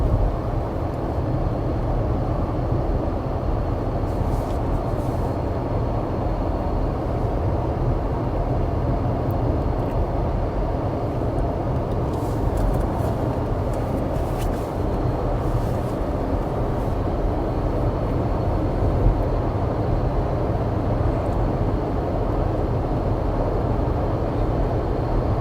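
A car drives steadily along a road through a valley, with a continuous low rumble of engine and tyre noise from inside the vehicle, holding an even level throughout and no talking.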